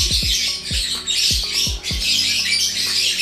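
Lovebirds squawking up close, a pair of loud birds giving rapid repeated harsh calls in quick bursts over a constant bright chatter.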